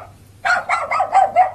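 A dog barks in a German radio crime drama, a quick run of about five loud, close barks over a low background hum.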